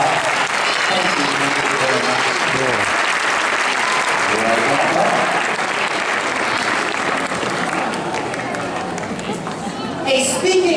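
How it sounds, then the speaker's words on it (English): A large audience at a math magician's show breaks into sustained, dense applause, loud and close throughout, with crowd chatter and voices mixed in beneath the clapping. "Let's all give Liana a nice round of applause"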